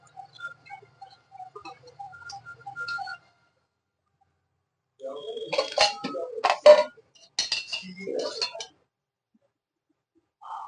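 Spoon clinking against a pot while chicken pulao ingredients with mint and coriander are stirred together, light taps at first, then a pause, then a louder cluster of scraping metallic clinks.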